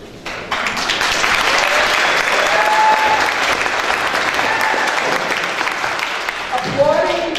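An audience in a legislative chamber breaks into loud, sustained applause with some crowd noise, and a voice speaks over it toward the end.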